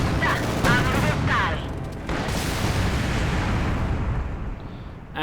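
An Ostwind anti-aircraft gun fires on aircraft in Company of Heroes 2, a loud, dense barrage of rapid cannon fire and booming blasts that runs on for several seconds before it tails off.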